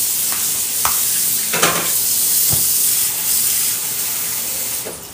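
Water poured into a simmering pot of beans and beef in tomato sauce, bringing up a steady sizzling hiss with a few scattered stirring knocks, close and continuous.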